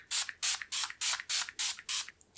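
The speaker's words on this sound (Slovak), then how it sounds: "A na to použijem tento fixačný sprej od Essence" Essence Hello Good Stuff makeup setting spray fires seven quick pumps in a steady rhythm, each a short close hiss, then trails off with a fainter final puff.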